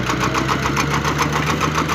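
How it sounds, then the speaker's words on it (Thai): A small single-cylinder walking tractor engine chugs steadily up close in a rice field, a loud rhythmic putter with metallic knocking and a rattling hum throughout. "รถไถน้อยก็จะลงแล้วนะครับ"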